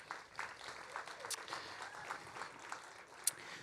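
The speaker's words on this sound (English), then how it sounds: "we give you a great round of applause" At a university entrepreneurship demo day, an audience gives a round of applause that comes through faint and distant, as soft scattered clapping with one sharper clap near the end.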